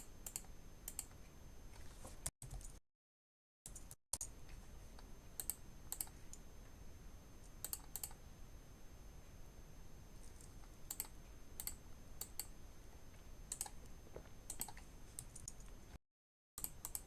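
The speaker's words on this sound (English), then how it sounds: "It picks up my mouse clicks." Computer mouse clicks picked up by a streaming microphone, faint sharp taps scattered irregularly over a quiet hiss, with a few brief dropouts.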